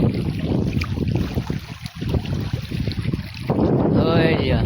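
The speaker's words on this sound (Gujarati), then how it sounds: "અત્યારે ખાલી પાણીનો તમે અવાજ સાંભળો કેટલું પાણી છે" Saltwater shore while out crabbing, with rushing, splashing water and gusting wind buffeting the microphone, loud and continuous, growing rougher toward the end.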